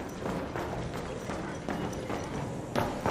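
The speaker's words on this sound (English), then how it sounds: "I heard footsteps" Footsteps in a video game thud in a steady, moderately loud rhythm, one after another, with a slightly clopping, hoof-like quality.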